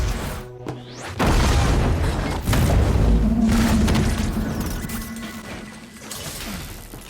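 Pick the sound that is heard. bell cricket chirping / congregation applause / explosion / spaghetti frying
explosion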